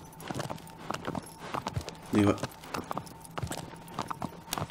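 Horse hooves clip-clop at a steady walking pace in the Shadow of the Colossus game, a moderately close rhythmic clatter of repeated soft strikes, with someone talking over them briefly.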